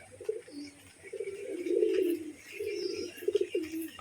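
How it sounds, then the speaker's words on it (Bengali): A crested pet pigeon gives soft, close, repeated low coos in short rolling phrases, with nothing else prominent around it. "আমার যে ঝুটি পায়রাটা রয়েছে ওই ঝুটি পায়রাটা"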